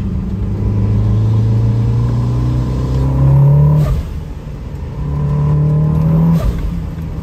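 A Mitsubishi Lancer Evolution VIII RS car engine revs up steadily, drops briefly as if shifting gear, then climbs again; loud and continuous with no talking.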